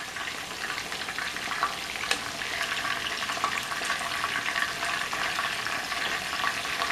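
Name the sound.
food frying in hot oil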